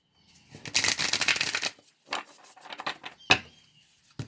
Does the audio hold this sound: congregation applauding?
no